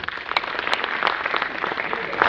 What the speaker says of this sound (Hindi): बहुत बड़ा दिल है इसका, बड़ा जोरदार तालियां हो जाए।